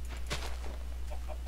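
A Minecraft chicken gives a few short, faint clucks at irregular intervals over a steady low hum.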